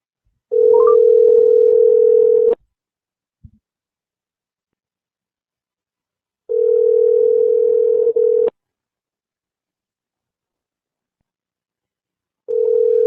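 A telephone ringback tone sounds in long steady bursts of about two seconds, separated by roughly four seconds of silence, loud and clean with no talk over it.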